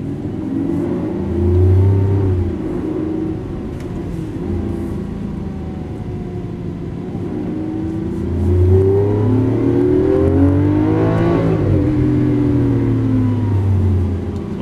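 A green 2012 Lamborghini Aventador accelerates on a race track at Las Vegas, its loud, close engine note rising and falling through two strong surges with a steady rumble between them.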